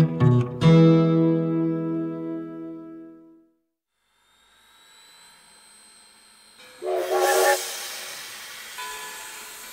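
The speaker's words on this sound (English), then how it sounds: "The train pulled out of the station." A steam train whistle blows long and loud, then fades to quiet before a hissing burst of steam and further whistle tones as the train pulls out of the station, with no voices.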